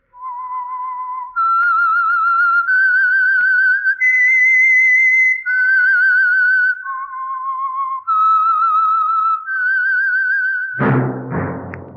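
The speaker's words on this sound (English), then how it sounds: "That whistle is your signal for the Signal Oil Program, The Whistler." A clear, loud whistled melody of sustained pitched notes stepping up and down forms the signal theme of The Whistler radio program, running continuously before ending in a sharp burst.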